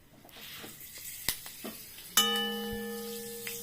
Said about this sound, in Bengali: এরপরে কড়াইয়ে যা তেল আছে এর মধ্যে একটু মেথি ফোড়ন দিলাম।